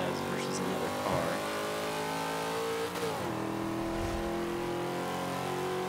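A 1993 Ford Mustang Cobra races in B Class in Forza 5, its engine droning steadily with layered harmonic whine and a brief revving shift near the middle, loud and continuous throughout.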